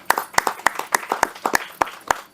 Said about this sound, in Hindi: आपके लिए तालियां सर।